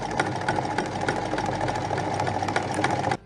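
Sewing machine runs continuously while stitching the cuff of a boilersuit, a fast, even mechanical chatter of needle strokes with a low motor hum, close and steady until it stops abruptly.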